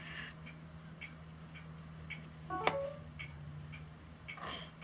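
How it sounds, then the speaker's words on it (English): A phone notification chimes once, a short bright tone rising over a quiet room with faint, steady ticking in the background; no one speaks. "That sound is my phone notifications going off."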